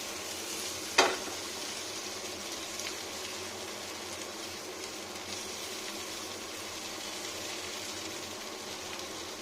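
Flat beans fry in a pan with a continuous, even sizzle heard close up, broken early by a single sharp clatter from the pan or utensil; no one talks.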